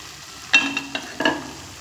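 Pre-fried ridge gourd pieces go into a pan of potatoes frying in oil for a spicy poppy-seed dish, with a soft sizzle broken by two sharp clinks of a spoon against the pan.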